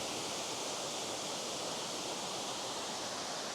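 Tianna Falls waterfall, a constant dense hiss of rushing water with no break or change, steady and enveloping for the whole stretch.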